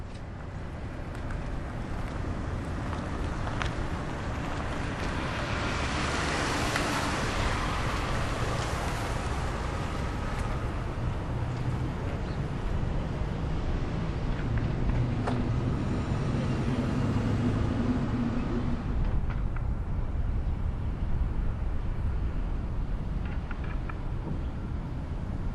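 A funeral vehicle at a military full-honors burial rolls slowly up and past, its low rumble swelling and fading beneath steady, heavy wind buffeting the microphone.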